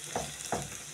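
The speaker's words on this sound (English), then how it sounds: "So now you add your onions." Onions sizzle steadily as they fry in a pot for an African-style beef stew, with three spaced scraping stirs cutting through the close, continuous hiss.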